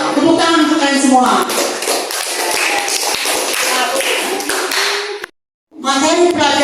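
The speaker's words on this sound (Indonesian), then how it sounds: "Tepuk tangan untuk kalian semua." Students in a classroom burst into applause: loud, dense clapping mixed with children's excited voices, a brief pause, then more clapping and cheering.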